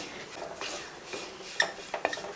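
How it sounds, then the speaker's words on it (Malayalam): A metal spoon scrapes and clinks against a cooking pan while spice powders, including garam masala, are stirred in, soft scraping throughout with a few sharper clinks near the end, quiet and close. "ഇനി ഇതൊന്ന് ഇളക്കി കൊടുക്കുക"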